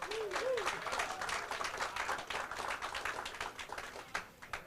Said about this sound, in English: can we have a nice round of applause for Mr.